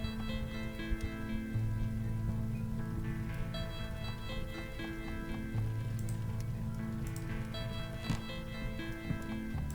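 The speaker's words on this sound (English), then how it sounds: "The sun has set and rain has swept in." Rain falls at night in the video game Hobs Barrow, a soft steady patter that runs the whole way through under faint ambient music, with no voices.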